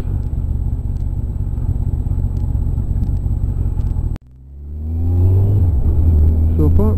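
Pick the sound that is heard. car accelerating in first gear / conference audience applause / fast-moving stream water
car accelerating in first gear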